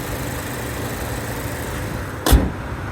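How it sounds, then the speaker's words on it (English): A 2025 Mazda CX-50 2.5 S Premium Plus with all-wheel drive idles steadily with a low, even engine hum, and a brief louder thump or door-like knock cuts in near the end. "of course, as you can hear, the vehicle is running smoothly"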